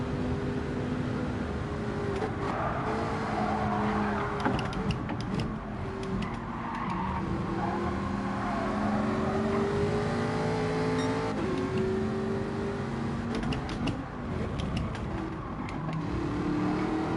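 Race car engines in Gran Turismo 7, revving and shifting through rising and falling tones with occasional tire squeal, moderately loud and continuous, with no talk.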